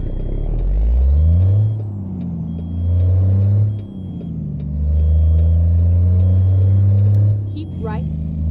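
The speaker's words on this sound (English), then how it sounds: "Interior sounds, air brake sounds" Peterbilt 359 truck in American Truck Simulator: a low engine rumble runs under steady talking, and a short sharp air-brake hiss bursts out near the end.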